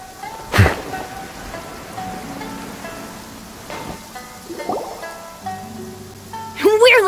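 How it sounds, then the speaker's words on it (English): Heavy rain falls in the video game Carassius Auratus as a steady hiss, with chiming game tones and short sound effects over it and voices now and then. "This heavy rain must be quite an inconvenience for you."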